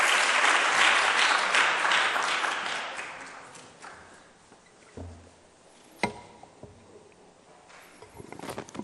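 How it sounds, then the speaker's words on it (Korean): A church congregation at a Wednesday service claps loudly to welcome the pastor, the applause fading out over a few seconds into a quiet room with a few scattered knocks and shuffles. "우리 목사님 큰 박수로 환영하고"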